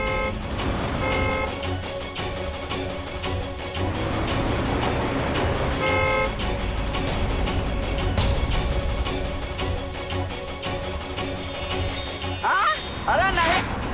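A car horn honks repeatedly at a truck on a road during a TV drama scene, in short toots over steady traffic and engine rumble. A brief high electronic tone and other effects enter near the end.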